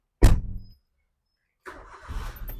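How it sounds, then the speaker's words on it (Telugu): A 2015 Maruti Alto K10 petrol car engine starts with a short, loud burst of cranking, falls silent briefly, then settles into a steady running sound close by. "ఒకటే సెల్ఫ్ లో స్టార్ట్ అయిపోయింది, ఎలాంటి స్టార్టింగ్ ట్రబుల్ అయితే లేదు"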